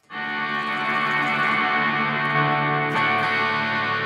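An electric guitar played through a Line 6 Helix on an odd reverb snapshot holds a sustained, heavily processed chord washed in shimmering effects, then a sharp new strum lands near the end, loud and without any voice.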